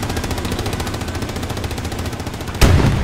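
A light machine gun fires a long, rapid, steady stream of shots in the World War II shooter Hell Let Loose, ending in a sudden louder, heavier blast near the end.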